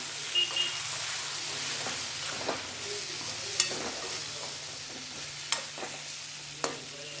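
Dry fish curry masala fries in oil with a soft continuous sizzle, a low steady hum and occasional sharp clinks of a stirring spoon against the pan. No one speaks.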